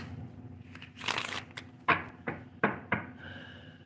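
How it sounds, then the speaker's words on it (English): Cards are shuffled by hand, heard as a soft riffling crackle followed by several sharp, separate taps and snaps at close range in a quiet room. "We're just shuffling the cards."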